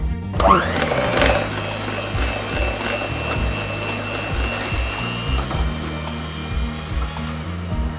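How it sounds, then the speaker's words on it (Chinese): An electric hand mixer on its lowest speed beats softened cream cheese, whirring steadily with a continuous motor drone and a thin high whine, up close, with no talk throughout. "接着我们用电动的打蛋器开动1档的速度，把这个奶油芝士呢搅打顺滑。"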